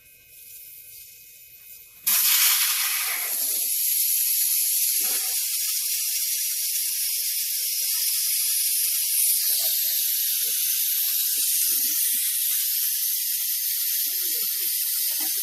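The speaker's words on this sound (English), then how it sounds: "we're gonna need to let out the air that's inside" Air hisses out of a tire once its valve stem is removed, a sudden loud, steady high hiss that starts abruptly and keeps going, close to the mic, with small faint clicks underneath.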